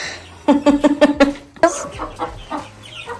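Chickens cluck in a backyard coop, a close run of quick, rhythmic clucks followed by a few looser, scattered calls.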